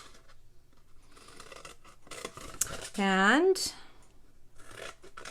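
Scissors snip through craft paper along the long side of a piece for a handmade shaker box card, a short crisp cutting burst in a quiet room, with a person talking before and after.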